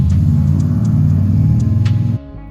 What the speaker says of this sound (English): it was time to finally back the old Malibu out of the garage and let Addy and her dad take it up the road for the very first time